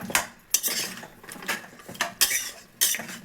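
Whole spices and turmeric frying in oil for a mutton leg soup, stirred with a spoon: sharp metallic scrapes against the pan come in repeated bursts, with only a little sizzle between strokes.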